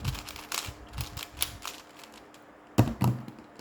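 A Zhanchi v1 speed cube being turned, giving quick clusters of light plastic clicks and clacks close up, a pause, then a final louder burst of turns, no talk.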